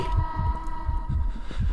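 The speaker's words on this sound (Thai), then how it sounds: "มีหัวใจเต้นแรงขึ้นกว่าเดิมแล้วก็มีเลือดนะฮะ" Heartbeat sound effect in a horror video game, a heavy low thumping in lub-dub pairs repeating steadily about three times, close and loud over a faint constant hum.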